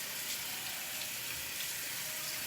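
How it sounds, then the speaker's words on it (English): Tap water runs steadily into a sink for hand washing, a continuous close, even hiss with no break and no voices. "I'm gonna wash my hands."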